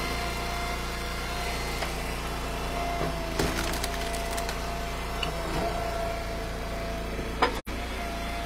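A log splitter works through ash and oak rounds beside a steadily idling engine, with a few sharp cracks of splitting wood and one sudden loud snap near the end.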